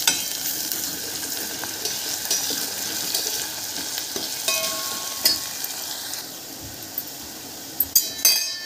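Onion browning with coarsely crushed garlic and ginger in a pan for sambar, a soft continuous sizzle with occasional light clinks of a spoon, quieter toward the end.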